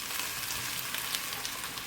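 Mutton frying in a karahi gives off a steady, close sizzle with crackling spatter throughout, and no one speaks.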